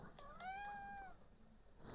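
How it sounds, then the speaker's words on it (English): A single rising-and-falling cat meow from the Street Fighter V game, clear and fairly close, followed by quieter game background noise. "Yes, little cat."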